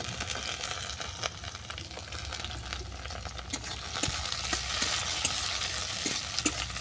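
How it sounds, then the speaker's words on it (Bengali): Cashews and raisins fry in a pan with beans and carrots for mango pulao, giving a steady sizzle broken by repeated spoon scrapes and stirring clicks, close and without talk. "এটাকেও হালকা করে ভেজে নেব।"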